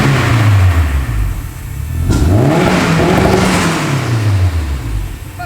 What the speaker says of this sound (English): rev it up now that it's warmed up.